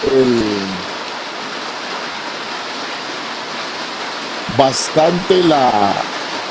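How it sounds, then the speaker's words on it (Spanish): Steady rain pours down in a continuous hiss throughout, with a voice talking briefly near the start and again toward the end. "el sonido de la lluvia"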